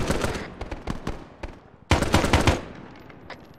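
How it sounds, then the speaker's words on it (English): Loud bursts of automatic gunfire from friendly forces in the Arma 3 Vietnam mod crack in rapid strings. A brief lull is followed by another heavy volley that fades out. "I'm taking fire from the friendly position."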